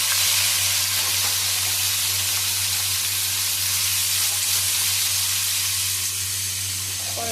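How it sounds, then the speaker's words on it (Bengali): Bitter gourd pieces frying in hot mustard oil in a wok give a steady, loud sizzling hiss that runs unbroken and close throughout, with a low constant hum underneath. "তেলটা গরম হয়ে গেছে, এবার আমি এক এক করে করলাগুলো দিয়ে দেব তেলের মধ্যে।"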